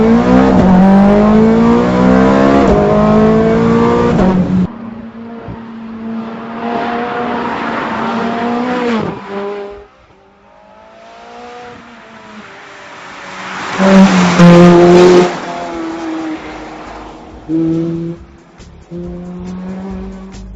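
A 2009 Ferrari 430 Scuderia is driven hard on a bumpy secondary road, its V8 engine screaming loud and close through rising and falling revs with gear changes and brief lifts off the throttle.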